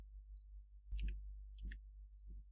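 A computer keyboard is tapped in a short burst of soft clicks as a word is typed, a few quiet keystrokes in a near-silent room.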